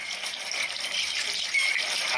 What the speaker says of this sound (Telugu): ఆతంతోని పొలానికి నీళ్లు పోస్తున్నటువంటి మన రైతన్న